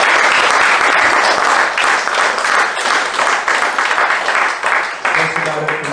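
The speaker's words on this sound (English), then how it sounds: "Can we have a round of applause for the acts who started out?" Audience applause follows comedy acts at an outdoor Christmas comedy show in a park, a dense, loud burst of clapping with some cheering that carries on steadily before thinning at the end.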